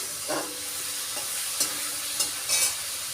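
Meat being fried and stirred in a pan in a home kitchen gives a steady close sizzle, with separate scraping strokes from the spoon every half second or so.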